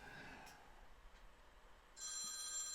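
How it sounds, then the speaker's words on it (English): A telephone rings faintly and steadily in an indoor room, its tone growing louder and fuller near the end, with no talking. "I'm sure that phone will stop in a few seconds."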